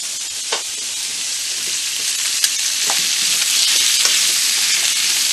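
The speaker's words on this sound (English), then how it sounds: "So we're going to let this sizzle up until it's brown." Pork frying in a pan gives a steady, close, bright sizzle with scattered pops and crackles throughout, and no voices over it.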